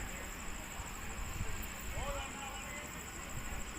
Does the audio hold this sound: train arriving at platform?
yes